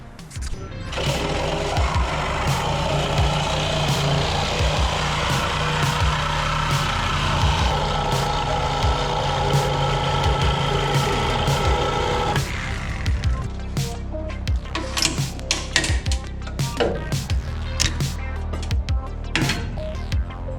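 A power tool grinds steadily through a car's radiator support on a Toyota Supra for about twelve seconds, then stops, followed by scattered knocks and clanks of metal being handled.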